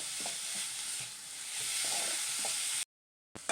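Grated carrot sautéing in ghee, a close steady sizzle with soft scraping stirs, cut by a brief silent gap near the end.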